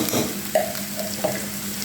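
Onions lightly frying in a pan for boal fish curry with tomato, a low continuous sizzle with a couple of brief spoon taps, close by and free of talk.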